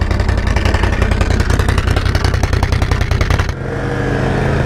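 A four-wheeler's 1000cc engine labours loudly in mud, pulsing in rapid heavy firing beats as it bogs down, then cuts to a lower, smoother idle for the last second.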